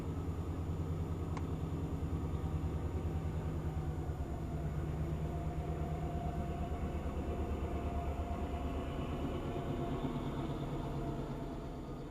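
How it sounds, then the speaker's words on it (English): Lehigh Gorge Scenic Railway train on its return run, a steady, loud low rumble with droning engine tones rolling on evenly for the whole stretch, no voices. "After I left the cemetery, I caught the return of the 1 o'clock train."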